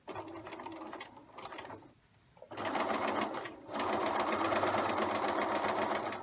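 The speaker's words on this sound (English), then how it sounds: "we'll do a little bit of back stitching here" A sewing machine back stitches at the end of a pocket hem, running in steady bursts with a short pause in the middle, loud and close with no talking.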